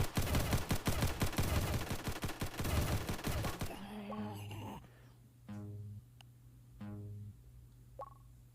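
Kalashnikov rifle fire in a military-base tower defense video game: a dense burst of rapid automatic shots for about four seconds, followed by quieter game tones and electronic beeps.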